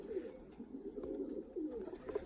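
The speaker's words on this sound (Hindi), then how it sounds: "ये आ गया जी चूहा बटेरा कबूतर, बड़ा अच्छा कबूतर है ये भी।" A chuha batera breed pigeon coos softly and repeatedly, low throaty calls in a steady rhythm, close but quiet, with no talk.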